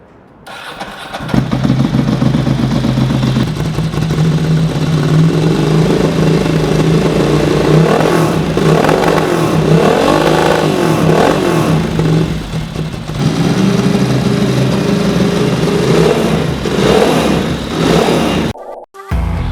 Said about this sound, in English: Not really much else to say about the motorcycle now, other than to start it up and let you hear it.